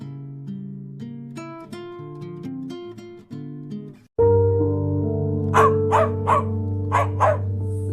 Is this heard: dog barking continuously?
yes